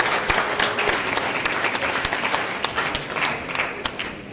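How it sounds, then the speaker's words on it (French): Sustained audience applause at a university event, dense, steady clapping from a large crowd filling the space, continuing evenly throughout without speech. "Applaudissez pour Vidéo Business."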